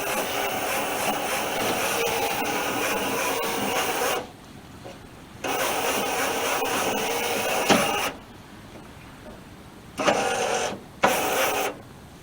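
A failing power window motor in an old Chrysler whirs and strains in several bursts of a few seconds each, separated by short pauses, with the window refusing to rise.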